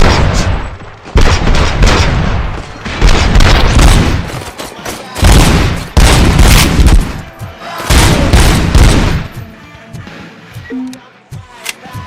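Repeated bursts of gunfire and booming shots in the video game RoboCop: Rogue City, loud and close, coming in clustered volleys with short pauses between them and no talk over them.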